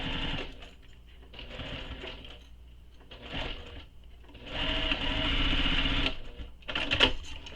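A sewing machine stitches a seam on a tote-style bag, working slowly past a handle; close, steady bursts of rapid mechanical stitching that pause and restart, then one longer, louder run near the end, with no talking.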